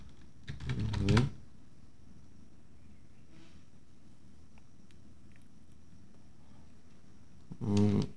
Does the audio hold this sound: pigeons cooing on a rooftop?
no